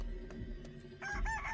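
A rooster crows in a video game, a single cock-a-doodle-doo rising clearly out of low background rumble toward the end of the short moment.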